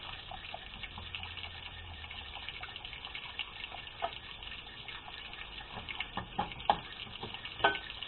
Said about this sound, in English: Okay, time to add the water.